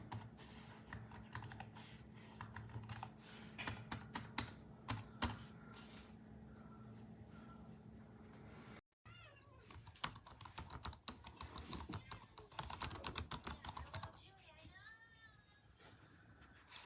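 Typing on an OMOTON ultra-slim Bluetooth keyboard, a steady run of close, light key clicks that stops briefly midway and then resumes, with talking in the background.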